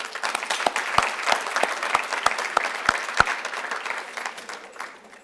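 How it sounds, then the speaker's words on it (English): An audience at a formal gathering applauds steadily, with a few sharp, close claps standing out at a regular beat before the applause thins and fades away near the end. "I want to give us a round of applause"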